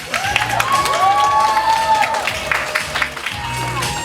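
An audience applauds at a press conference for a product launch. Steady clapping continues for several seconds, loud and fairly near, with cheering voices and a host's talk woven in.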